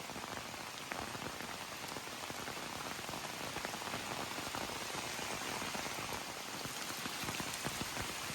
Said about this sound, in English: I think the rain, the intensity went down a little bit. I'm getting soaked here.